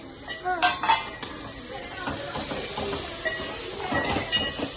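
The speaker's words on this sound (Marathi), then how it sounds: "तर आपण याला चांगलं असं परतून घेऊया" Spices and ginger-garlic paste sauté in a pan for chicken khichdi, giving a close sizzling hiss with scraping stir strokes and a clatter of the pot. No one speaks.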